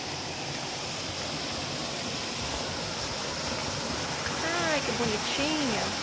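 A small waterfall in the woods rushes in a constant, full hiss close by, and a person talks over the water toward the end.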